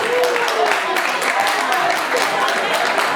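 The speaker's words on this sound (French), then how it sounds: "Merci d'applaudir les mariés." Guests at a Gabonese wedding applaud the newly married couple, a dense steady wash of clapping from a crowd that keeps going throughout, with faint voices and cheers mixed into the noise.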